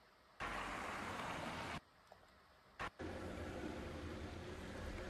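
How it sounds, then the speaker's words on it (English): A car passes outdoors, heard as a loud, even wash of broadband road noise that cuts in and out abruptly in several chunks, with quiet gaps between the bursts. "so this is the car sound."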